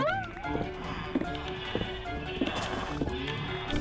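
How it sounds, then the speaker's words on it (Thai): Sheep bleat repeatedly in the Minecraft video game, short wavering cries over a busy background of in-game sounds, with a voice talking faintly. "เสียงแกะนี่น่าลำคาญเหมือนกันนะ"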